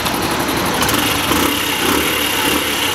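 A Honda Super Cub 90 motorcycle's carbureted 90cc engine idles steadily and loudly up close, a constant buzzing drone with a slight rhythmic pulse and no talking.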